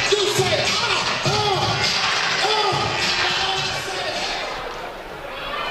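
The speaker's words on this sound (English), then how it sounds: "Crowd still in good spirits here at Big Bend, looking for a comeback." A gym crowd murmurs and cheers at a volleyball match, a steady wash of voices with a few thuds and shuffles, under a commentator talking throughout.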